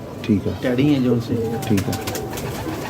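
Pigeons coo in low repeated throaty phrases close by, while someone talks over them.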